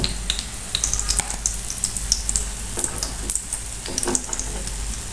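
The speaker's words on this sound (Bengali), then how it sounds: "দেখতে পাচ্ছেন সুন্দর ভাজা হয়ে গেছে।" Green banana kebabs frying in hot oil make a continuous close sizzle broken by sharp crackling pops, with soft stirring or lifting sounds and no voices.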